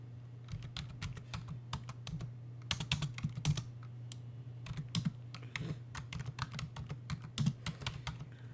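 Steady typing on a computer keyboard during a Linux command-line lesson, rapid irregular key clicks with a few louder bursts over a constant low hum, no talking.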